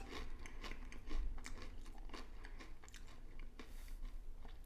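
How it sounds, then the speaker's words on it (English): A person chews and eats food close up, with irregular soft crunching and wet biting sounds repeating throughout, no talking. "I'm chewing and eating."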